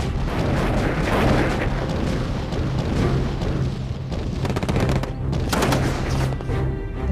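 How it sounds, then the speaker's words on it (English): Artillery guns firing on approaching German tanks and troops during the Battle of the Bulge, a dense barrage of heavy booms and cracking blasts rolling continuously, loud and close with overlapping explosions throughout. "their guns devastate the approaching German tanks and troops"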